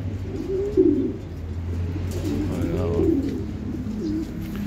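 Soft, low dove-like cooing comes in a few rounded phrases over a steady low hum, moderately close, as birds are fed in Buenavista.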